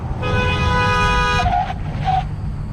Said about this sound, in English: You hear the traffic always horns honking, you hear brakes squealing